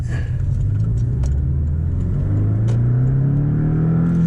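A Porsche 718 Boxster GTS engine hums loud and close, its pitch climbing steadily as it accelerates, with a throaty low rumble underneath.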